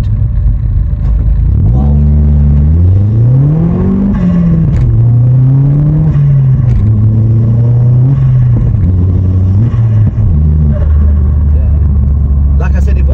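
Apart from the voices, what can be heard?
Vauxhall Astra VXR stage 2 car engine revving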